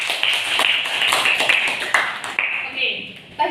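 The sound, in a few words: classroom applause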